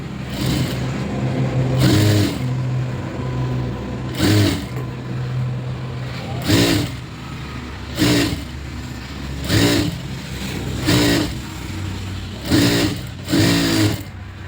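An electric sewing machine runs in repeated short bursts of rapid stitching while double-stitching a blouse, each run lasting about a second with quieter gaps between, close and clear.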